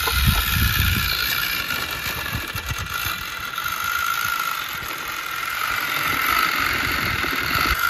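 A remote control Swaraj 855 model tractor with an upgraded gearbox runs steadily, giving a continuous close mechanical whir with a faint ratcheting rattle throughout.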